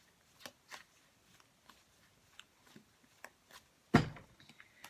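Soft riffling and papery flicks of tarot cards being shuffled, in short scattered bursts with quiet gaps, ending in one sharper slap of the deck.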